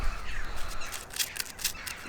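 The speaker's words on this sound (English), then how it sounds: "lots of crows in the background." Crows caw repeatedly outdoors on a sunny day, the harsh calls coming in short bursts over a steady background hiss, moderately distant, with no one talking.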